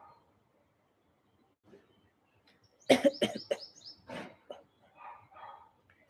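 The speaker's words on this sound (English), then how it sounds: "Action word for coughing." A short cluster of harsh coughs, several in quick succession, close by in an otherwise quiet room, followed by softer fading sounds.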